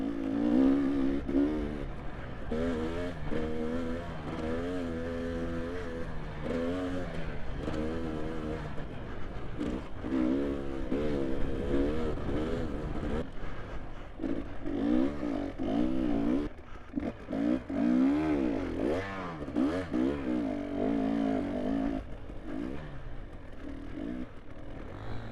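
An enduro motorcycle engine buzzing and revving continuously while ridden during an enduro championship event, pitch rising and falling with throttle changes amid clattering over rough ground, fairly close and steady throughout.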